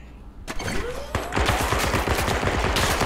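Gun turrets firing in the Zero Caliber VR co-op shooter at a waterbase level, loud rapid automatic bursts following a couple of heavy single shots, continuous and close, with a voice briefly under the gunfire.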